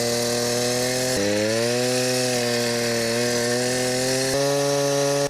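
A motorized bicycle fitted with a CVT pulls away from a standstill, its small engine droning loud and steady, with a pitch drop and recovery in the middle and a sudden jump in pitch near the end.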